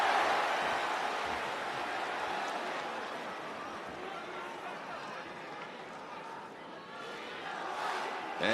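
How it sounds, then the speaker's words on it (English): Arena crowd at Ariake Coliseum roaring steadily behind a home fighter during a welterweight tournament MMA rematch, a dense sustained wash of cheering voices that swells again near the end. "you hear the crowd immediately in unison rally behind their native star"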